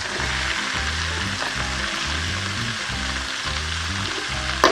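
Ivy gourd (tindora) sautés in oil after tomatoes for a kovakkai kuzhambu, a steady close sizzle with no talk, over a pulsing low hum.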